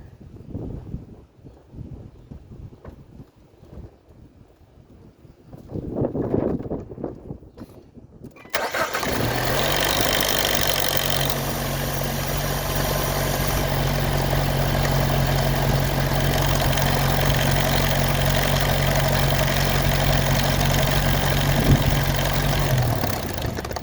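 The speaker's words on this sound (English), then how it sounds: "I'm going to leave my camera on it and try starting it" A Jeep Wrangler engine cranks and fires up just after an oil change, then settles into a steady, loud, close idle with a constant low hum; quiet handling noises come before the start.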